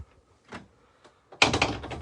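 A door aboard a Fairline Squadron 50 flybridge motor cruiser opens and shuts: faint knocks and a brief rattle, then a louder burst of sliding and clattering near the end, close by with no talk.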